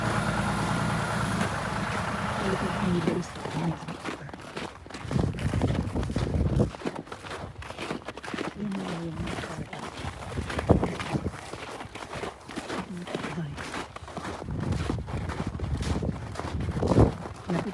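Footsteps crunching on frozen ice along a road during a winter storm, an irregular series of crisp crackling steps over a steady windy outdoor background, fairly close.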